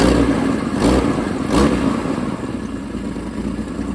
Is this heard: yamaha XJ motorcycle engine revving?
yes